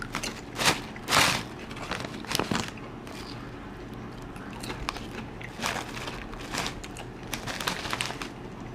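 Quest protein chips being crunched while eating, with several loud crisp bites at first, then a lighter steady chewing crackle, close up and with no talking.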